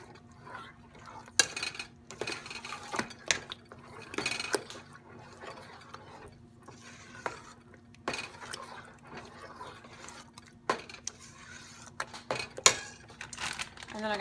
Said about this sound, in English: Let's stir that up real good.